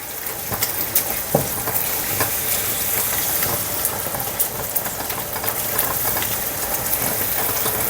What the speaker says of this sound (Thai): ผัดสักหน่อย ให้กะทิแตกมัน